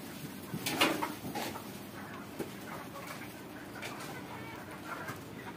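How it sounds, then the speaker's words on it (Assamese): Sonali chickens on a poultry farm raised for laying, with a few close clucks and short calls over a quiet background hum, including one brief louder call early on. "এইটো সোণালী মুৰ্গীৰ ফাৰ্ম"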